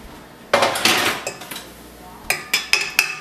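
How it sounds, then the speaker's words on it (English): Dishes, pots and cutlery clatter and clink in a home kitchen during bun baking, a loud burst of rattling followed by a quieter pause and then several sharp, evenly spaced clanks. "There, we got a lot of dishes now."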